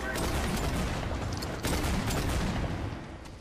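Rapid gunfire bursts from the shooter video game Paladins, a dense continuous rattle of shots with a few sharper cracks, fairly quiet overall and mixed with game ambience.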